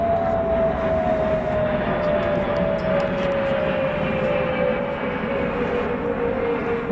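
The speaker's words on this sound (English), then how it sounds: "here comes another jet" A jet aircraft passes overhead above a garden, a continuous loud roar with a slowly falling engine whine that holds steady throughout, no talking.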